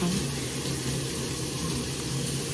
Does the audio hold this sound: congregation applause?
no